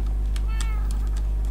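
A Minecraft cat gives several short, high meows in quick succession while a person talks over them, with a constant low hum underneath.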